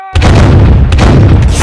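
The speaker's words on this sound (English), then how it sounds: "Aim the cannons!" Loud booming blasts of cannon fire, several heavy shots in quick succession that ring out and rumble, with no voices.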